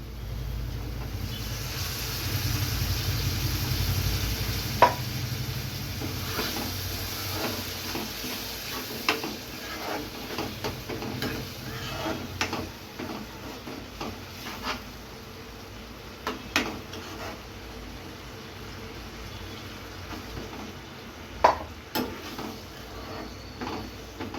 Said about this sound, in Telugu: కొద్దిగా వాటర్ పోసుకుందామండి